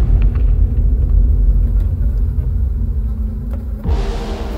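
Loud, steady low rumble of a subway car rolling along in the video game Find Yourself, continuous and heavy, with a brighter rattling surge near the end.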